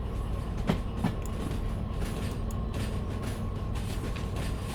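Rolling rail rumble and wheel-on-rail clatter from a DE6 diesel locomotive shunting cars in the Derail Valley game, steady and continuous with a few sharp clicks early on.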